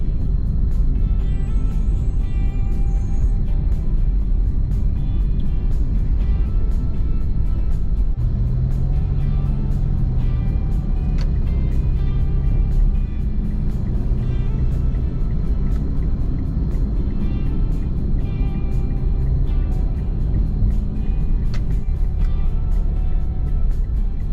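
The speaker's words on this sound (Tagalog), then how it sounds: "Grabe ang traffic." Heavy road traffic on the SLEX highway near Southwoods, with the expressway being widened, makes a constant loud rumble of engines and tyres that never lets up.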